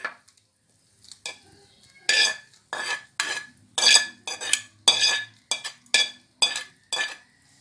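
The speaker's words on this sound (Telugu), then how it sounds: "ఆ ఉల్లిపాయల్ని ఈ వంకాయ దాంట్లో కలపాలి." Metal spoon scraping and clinking against a pot as fried onions are stirred into eggplant chutney, a series of rhythmic scrapes, close and fairly loud, with no talk.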